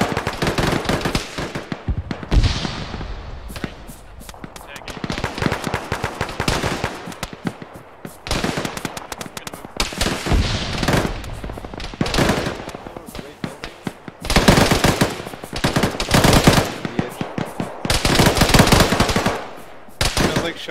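Bursts of rifle and machine-gun fire from a building in a military shooter game, loud, rapid and repeated in clusters with brief pauses, with voices talking between shots.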